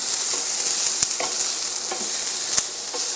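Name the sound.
Brussels sprouts, onions and garlic frying in a pan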